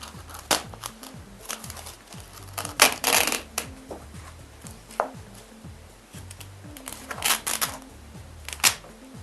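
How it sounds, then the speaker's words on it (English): Heavy nylon line, used like a cheese wire, saws through a piece of freeze-dried bread with irregular dry crunching and crackling snaps scattered close by over several seconds. "to cut it, all we do is just get some heavy nylon line and just basically cut right through"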